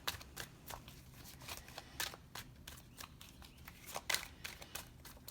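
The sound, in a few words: shuffling an oracle card deck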